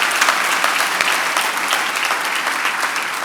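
A church congregation keeps up loud, sustained applause, many hands clapping together in a thick, continuous roar.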